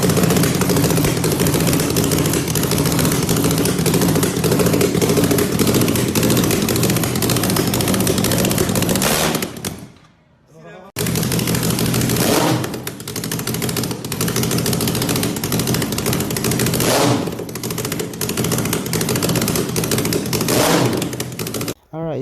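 Motorcycle engine running with a homemade muffler, a loud continuous rattling drone close by that cuts out briefly midway and then resumes, with sharp bursts and pops throughout.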